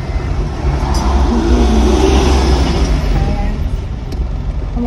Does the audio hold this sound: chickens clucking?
no